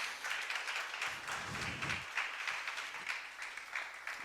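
A church congregation applauds during a sermon, a steady wash of many hands clapping at moderate volume for several seconds with no clear voices over it.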